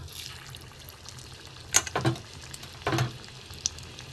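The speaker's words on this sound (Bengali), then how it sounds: "এবার এখন তেলও আমার গরম হয়ে গেছে। আমি এইভাবে নিয়ে একটু চ্যাপটা করে আমি চপের মতো করে ভেজে নেব।" Flattened bread-and-potato pakoras go into hot oil, a low steady sizzle punctuated by a few louder bursts of crackling as pieces are added or turned, close and without talk.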